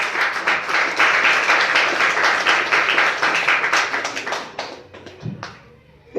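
A church congregation gives a loud round of applause during a sermon, dense clapping that holds for several seconds before thinning into a few scattered claps and fading out.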